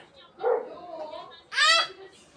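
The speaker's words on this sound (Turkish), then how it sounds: "Duydun mu köpeğin sesini?" A dog gives a couple of short, high yips close by, with a voice nearby; the barks come in two quick bursts.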